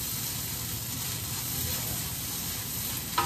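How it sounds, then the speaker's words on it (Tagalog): Corn boils in a covered-to-be pot, giving a steady, dense bubbling hiss from start to finish, with a brief light clink near the end. "Hayaan nyo siyang kumulo ng kumulo siya dyan."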